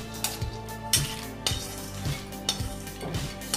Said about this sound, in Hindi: इसके बाद मूंगफली के दाने, ये भी मैं वापिस एक बार सेक लेती हूँ